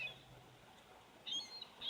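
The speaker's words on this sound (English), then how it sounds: "These are a bunch of spoiled punk ass seagulls around here." Seagulls gathered around a parked car at a lunch-break spot: a few faint, distant gull cries, with one short call near the start and two more near the end over quiet outdoor background.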